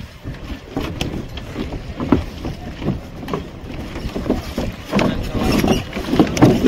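Speedboat out on open water near the Andaman Islands, a steady rushing roar of hull and spray with slaps and wind buffeting the microphone, continuous and close throughout.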